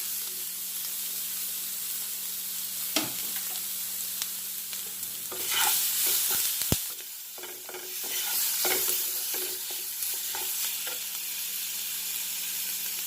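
Chicken with salt and bhut jolokia chili fries in a pan, sizzling steadily, with louder bursts of hissing and scraping as it is stirred. A low hum runs underneath throughout.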